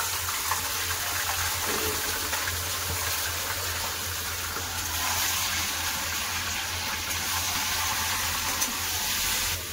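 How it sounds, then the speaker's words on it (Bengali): One kilogram of washed chicken drops into hot oil in a pot with cloves and bay leaves for chicken korma, making a loud, steady, broadband sizzling hiss that runs unbroken throughout with no talking. "এবার দিয়ে দেবো চিকেন, ভালো করে ধুয়ে জল ধরে রেখে দিয়েছি।"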